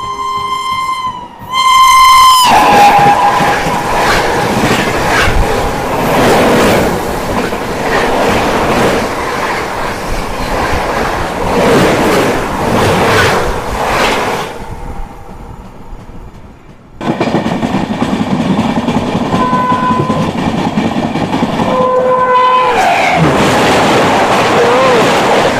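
Bhubaneswar Express superfast train thunders past at speed with a horn blast near the start, loud rumbling and clatter of wagons, a brief drop, then a renewed roar with further horn notes.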